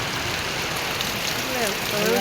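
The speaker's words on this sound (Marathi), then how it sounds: "पाऊस पडायला लागला, खूप पाऊस पडायला लागला आहे" Steady rain hisses continuously throughout, a dense broadband wash with some faint voices underneath.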